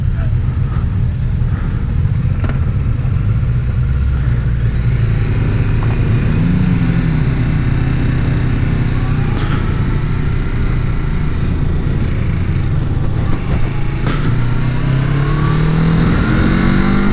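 A Kawasaki Z650RS motorcycle rides steadily, its mid-pitched engine droning continuously with shifts and revving changes over loud wind rush throughout.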